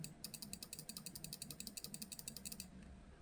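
Crisp Logitech MX Vertical mouse button clicks rattle off in a fast, even stream for about two and a half seconds, then stop; close and clear.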